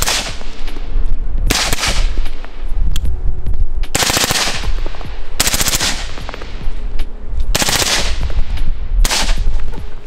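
Loud video-game gunfire from a pistol and rifle: rapid bursts of sharp shots in clusters, with heavy bangs at regular intervals and no talking over them.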